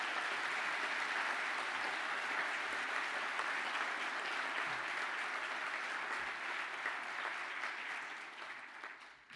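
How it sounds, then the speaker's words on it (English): Sustained applause from a large standing audience at a university engineering graduation ceremony, dense and even for most of its length before tapering slightly at the end. "Can the class now please stand up for a well-deserved round of applause?"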